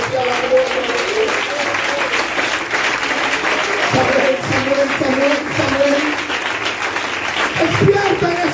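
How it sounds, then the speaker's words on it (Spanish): A church congregation claps loudly in praise, a dense continuous ovation with a preacher's voice calling out over it. "A ese aplauso fuerte a la gloria"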